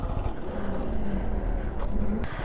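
A motorcycle engine idles and keeps running steadily after the clutch is released, with a continuous loud rumble and wind noise close to the microphone.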